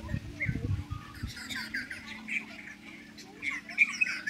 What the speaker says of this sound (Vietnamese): Quá trời con chim gì á.